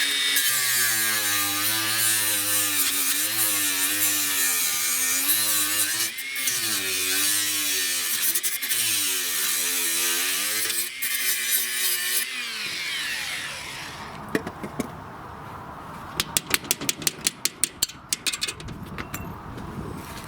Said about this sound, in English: So I've got my grinder, and actually the heads of these bolts, that's what I'm grinding off.